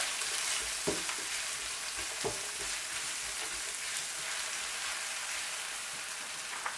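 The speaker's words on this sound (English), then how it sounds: "Fry your chopped onion." Chopped onion fries in hot oil for an empanada meat filling, giving a steady, dense sizzle with a few faint stirring knocks throughout and no voices.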